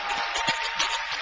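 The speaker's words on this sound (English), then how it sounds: "Big round of applause for Scott." Comedy club audience applauding a volunteer being called up to the stage, a dense steady wash of clapping with a few louder bursts, no voices over it.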